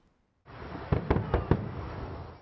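Fireworks bursting in a quick run of four sharp, loud reports over a steady crackling roar, with no voices.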